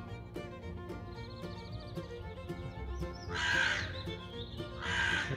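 A crow caws twice, loud and close, over a steady background hum with faint ticking.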